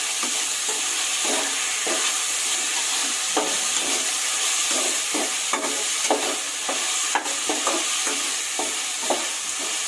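Tomatoes frying in a pan for mushroom biryani give a steady, close sizzle, broken by repeated scraping stirs at an uneven pace. No one speaks.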